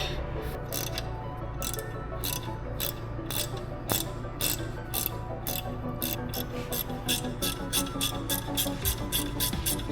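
A ratchet wrench tightens the brake caliper bolts on a Mercedes C-Class W205 during a rear brake pad change, with rapid, steady pawl clicking in close, loud bursts that continue for the whole stretch.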